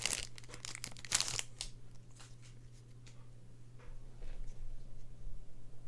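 Foil wrappers of Magic: The Gathering Eldraine booster packs tear and crinkle at close range in a burst of sharp rustling early on, then a few softer crackles and rustles follow over a steady low hum.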